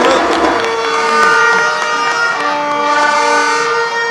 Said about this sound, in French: les klaxons, il faut les garder pour après